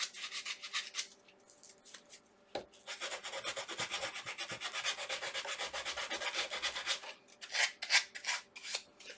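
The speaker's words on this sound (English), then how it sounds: "And now I just have this sandpaper, and this is 150 grit." 150 grit sandpaper rubbed around the overlapping edges of a paper heart, a steady run of quiet, scratchy back-and-forth strokes with a few short pauses.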